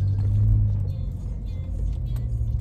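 Steady low rumble inside a moving car, continuous road and engine drone with faint rattles, no talking.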